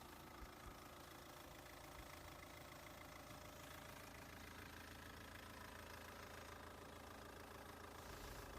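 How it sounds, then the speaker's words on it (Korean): An older Hyundai Santa Fe engine idles steadily at close range after a heater core rust flush and coolant change, a continuous low rumble with a faint rattling vibration and no change in pace. "아까 차가 처음에 들어왔을 때하고 엔진 소리가 완전히 달라졌습니다"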